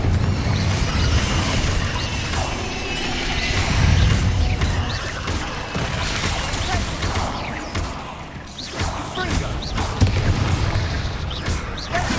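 Confringo blasting-spell explosions in the Hogwarts Legacy video game, a dense run of loud booms and crashing bursts with rumbling low end, continuous for the whole stretch.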